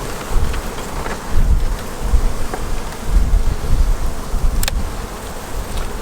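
Honey bees swarming around an open beehive, a loud continuous buzzing drone close to the microphone with light wind rumble underneath and a few individual bees zipping past.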